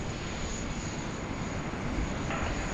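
Jetstream 32 twin-turboprop rolling for departure at Sydney Airport, a steady broadband engine roar at moderate distance, continuous and unbroken with no talk.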